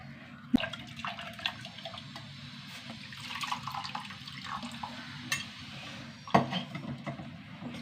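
Water pours into a pot of tamarind curry with soft splashing and gurgling, framed by sharp clinks of a vessel or utensil at the start and toward the end.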